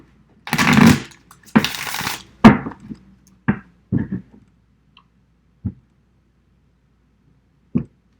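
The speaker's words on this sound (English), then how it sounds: "I just still like to shuffle a little on camera." Tarot card decks are shuffled in two or three close papery bursts, followed by sparse single taps and soft clicks separated by stretches of near silence.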